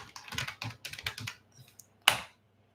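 A password typed on a computer keyboard: a quick run of about eight soft key taps, then a single louder keystroke like Enter, close and isolated.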